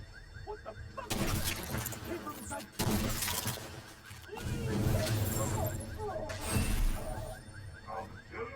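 A Chem Launcher Fire Starter fires in a video game, producing several sharp, shattering bursts with whooshing tails spaced a second or two apart over a low background.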